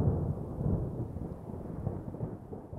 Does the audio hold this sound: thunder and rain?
yes